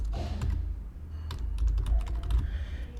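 Computer keyboard keys being typed in a run of quick, close clicks over a low steady hum, with no voices.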